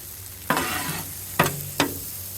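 A big spatula stirs fried rice in a hot pan, three scraping strokes over a steady sizzle, close and fairly loud.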